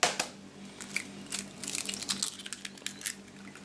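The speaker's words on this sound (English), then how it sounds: "Whisk the egg in also" Whisking an egg into a ginger chicken marinade in a bowl, heard as a quick run of soft wet clicks and scrapes, close and fairly quiet with a steady low hum underneath.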